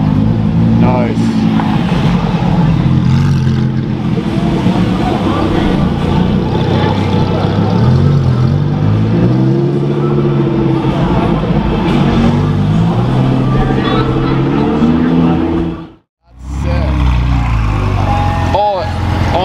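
A Lamborghini Performante Spider engine revs loudly nearby, its deep rising and falling roar swelling repeatedly under excited talk, briefly cutting out before revving again.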